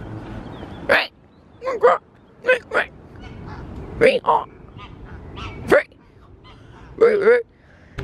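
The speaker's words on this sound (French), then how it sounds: "Il y a des canards." Several short, nasal quacking calls come in bursts spread across the clip, fairly close, with quiet gaps and light background noise between them.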